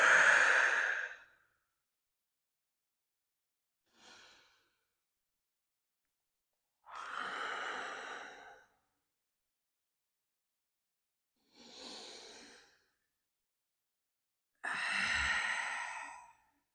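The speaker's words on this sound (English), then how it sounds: "I encourage you here to take 3 big breaths" Deep, audible breaths in a quiet room during a bedtime yoga child's pose come in five separate sighing exhales and inhales, spaced by silence and close to the ear.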